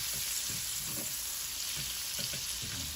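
Food, likely mushrooms and onions, sautéing in bacon grease on a griddle: a steady bright sizzle with soft scraping stirs at intervals, close and alone.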